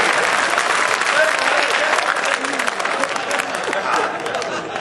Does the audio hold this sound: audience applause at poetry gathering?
yes